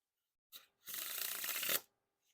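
A deck of Theory11 Sentinels playing cards fanned out faces up: a brief soft flick, then a sustained close papery rasp as the cards spread in one sweep, alone in a quiet room.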